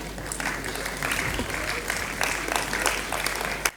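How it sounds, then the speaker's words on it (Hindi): Audience applause at an education awards ceremony for women leaders, moderate steady clapping from a seated crowd with faint voices mixed in, ending with a sharp final clap. "तालियों के साथ प्लीज़ इनकरेज करें"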